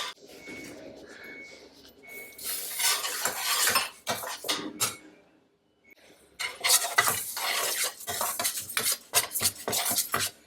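Moong dal roasting dry in a pan is stirred with a metal spoon, making bursts of gritty rattling and scraping that stop for a pause and then resume, close and fairly loud, with faint high beeps early on.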